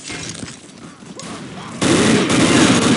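Bursts of gunfire from Unreal Tournament 2004 with the Ballistic Weapons mod during a deathmatch, rapid shots crackling at moderate level before a much louder, denser volley erupts and continues to the end.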